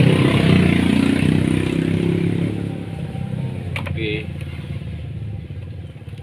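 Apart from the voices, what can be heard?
Honda Supra X125 motorcycle engine running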